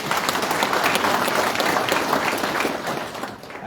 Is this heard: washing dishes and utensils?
no